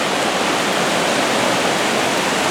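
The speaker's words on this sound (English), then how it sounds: "Unless you have roaring water. I love roaring water. It's a natural sound." Roaring water pours steadily from the outflow of Lake Hopatcong after Hurricane Ida, a loud, close, unbroken rushing roar with no pauses or voices.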